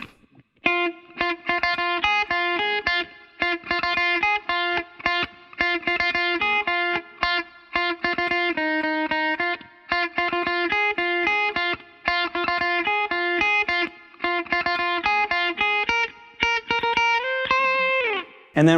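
Distorted electric guitar plays the lead part of a song, a steady picked melody of repeated notes with brief slides and short gaps, loud and alone with no talking.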